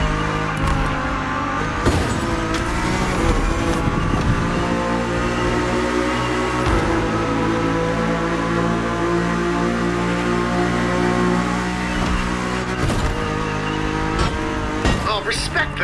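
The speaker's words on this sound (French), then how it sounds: "Looks like that BMW M4 was born to rule." BMW M4 engine revving hard while driving, sustained loud tonal roar rising and falling through gear changes, with sharp transient bursts and some talk mixed underneath.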